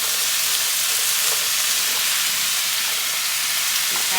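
String beans, potatoes and carrots stirred in a very large skillet, a loud continuous sizzle with soft scraping of the mix, steady throughout with no voices.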